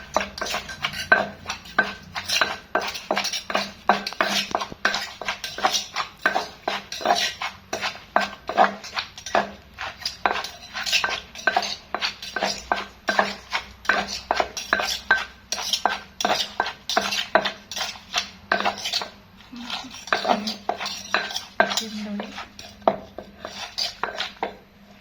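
Rhythmic pounding of cucumber som tam salad in a mortar, seasoned with fermented fish and fish sauce, steady repeated thuds and clatter close by, continuing without pause and with no talking.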